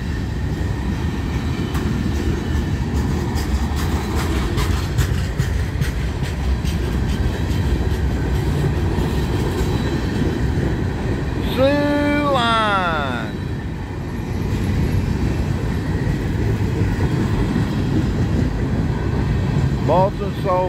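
A southbound manifest freight train climbs a grade in Abbeville, a steady close rumble of passing cars with a brief squeal of wheels around the middle and voices talking over it.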